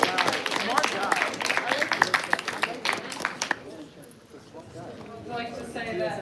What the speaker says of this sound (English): Can we also get a round of applause for the Daily Texan?